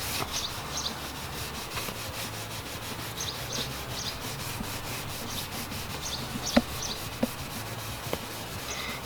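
Steady rhythmic hand sanding of car paint, sandpaper rubbing close and continuous across the body panel, with a few faint clicks and taps.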